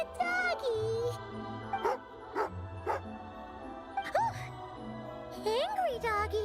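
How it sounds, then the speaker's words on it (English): Angry dog barks in Genshin Impact: short yelping barks and whines in bursts, with a light jingle and a game voice talking between them. "Angry doggy!"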